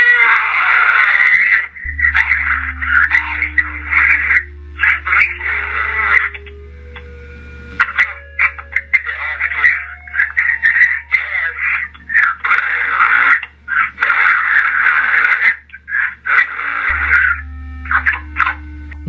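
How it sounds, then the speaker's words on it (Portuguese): A distorted voicemail recording full of growls, groans and screams, harsh and loud, with choppy bursts broken by brief gaps and a low electronic hum underneath. "No correio de voz, dá para ouvir uma mistura de rosnados, gemidos e gritos."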